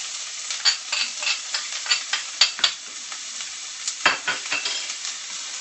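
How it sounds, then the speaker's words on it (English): Onions and grated garlic cloves sizzle and fry in a pan, with a steady crackling hiss broken by repeated scrapes and stirs of a utensil, close and fairly quiet, no voices. "kind of let these onions cook until they're translucent"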